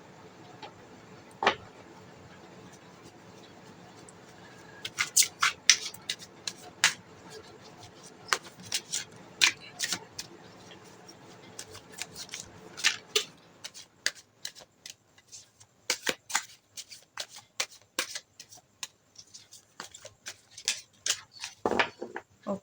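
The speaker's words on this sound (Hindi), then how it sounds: "तो चलिए बिना टाइम वेस्ट किए हम शफलिंग कर लेते हैं।" Tarot deck being shuffled by hand, starting with a soft continuous riffle under faint room hum, then a run of sharp, crisp card snaps and slaps in an irregular quick rhythm, close and fairly quiet.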